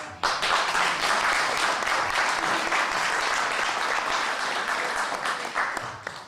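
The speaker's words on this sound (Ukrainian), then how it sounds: "просимо вас привітати її ще раз оплесками" A concert audience in a village hall breaks into steady, loud applause, many hands clapping together in a dense even roar that holds throughout and tapers slightly at the end.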